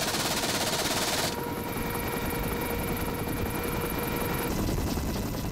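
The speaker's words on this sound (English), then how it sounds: "It has recently acquired a new half-inch caliber machine gun for use against fast-moving craft." A Lynx Mark 8 military helicopter's rotor thrums loudly and continuously while a half-inch caliber machine gun fires rapid, sustained bursts alongside it, with no talking.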